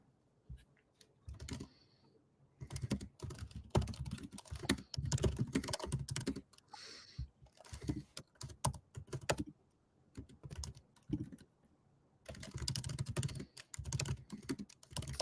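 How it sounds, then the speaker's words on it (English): Computer keyboard typing in bursts of rapid, close clicks, separated by short quiet pauses, with no talking. "Is my keyboard loud?"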